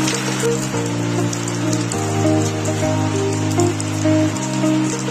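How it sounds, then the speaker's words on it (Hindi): Heavy rain pours down steadily, a loud continuous hiss of drops on surfaces close by, with a sustained tonal hum running underneath. "थैंक गॉड की बारिश हो रहा है"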